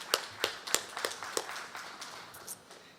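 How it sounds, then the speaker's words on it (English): Scattered hand claps from a small outdoor crowd at the East Texas State Fair, a handful of sharp claps thinning out over a few seconds with no talking. "Let's give him a round of applause."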